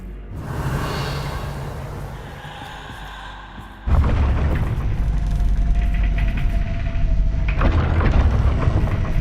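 The Bombarda spell in Hogwarts Legacy goes off as a booming explosion: a low rumble, then a sudden loud blast at about four seconds that keeps roaring and crackling, with a second surge near the end.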